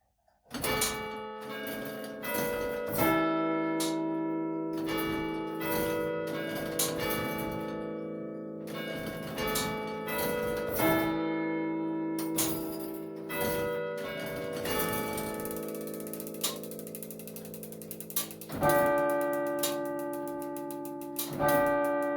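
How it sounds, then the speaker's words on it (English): Church tower clock chime mechanism running at St Michael's, Macclesfield, with a vane acting as a brake, producing a loud, close sequence of ringing bell strikes over steady ticking and mechanical whirring, with no talk. "A vane acts like a brake to stop the chimes running faster and faster."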